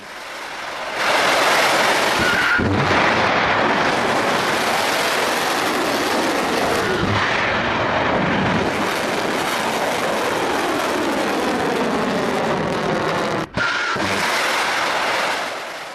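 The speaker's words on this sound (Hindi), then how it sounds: "ईरान ने आज अपनी बैलिस्टिक मिसाइल दागी है।" An Iranian ballistic missile launch: a loud, continuous roaring rush that starts within the first second and lasts about fifteen seconds, with a brief dropout near the end.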